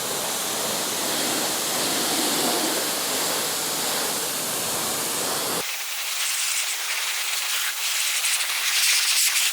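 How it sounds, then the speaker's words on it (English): A pressure sprayer rinsing wheel cleaner off a car wheel, a loud continuous hissing spray of water that shifts to a thinner, brighter jet partway through. "we'll go ahead after about 4 minutes and we will rinse it off with the pressure sprayer"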